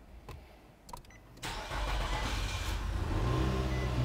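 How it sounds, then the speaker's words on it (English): A 2007–2012 Nissan Altima with a newly replaced fuel pump cranks after a few clicks, then its engine catches and settles into a steady, fairly close idle that grows slightly louder, with no talk. "So now we're going to try to start the vehicle."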